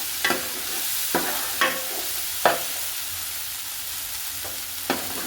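Mixed vegetables frying over medium heat in a pan with turmeric, with a steady low sizzle broken by several sharp scraping stirs at irregular intervals; no talking.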